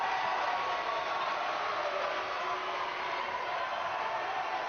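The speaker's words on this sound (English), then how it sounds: "And you can hear that crowd." Steady, dense crowd roar at a volleyball game, a constant wash of cheering voices at even loudness throughout.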